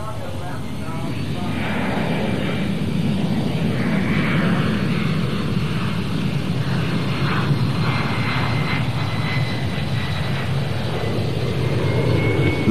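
Antonov An-72 transport aircraft at the 1984 Farnborough air show, its loud steady engine roar sustained throughout, with a voice talking over it.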